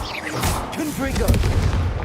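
Blasting-spell explosions in Hogwarts Legacy, a series of booming bursts and crackling impacts, loud and continuous over roughly two seconds with a low rumble underneath and some voice mixed into the clash.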